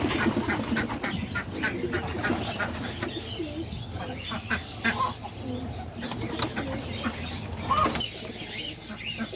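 Homing pigeons, rollers and archangels in a loft give soft, low cooing and scattered chirps, with occasional wing flutters. Talking continues intermittently underneath.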